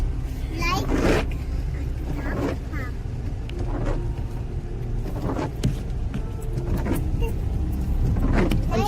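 A car on a long road trip to Trimbakeshwar near Nashik, steady low engine and road rumble from inside the cabin, with people talking over it throughout.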